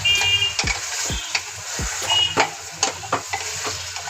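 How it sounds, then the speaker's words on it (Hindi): Beef tripe frying in hot oil for a spicy tripe curry, stirred with a utensil: steady close sizzle broken by repeated scraping strokes and clinks against the pan, with no speech. "ये मैंने ऑयल में बट को डाल दिया है। अब इसको थोड़ा सा हम इस तरीके से चलाएंगे।"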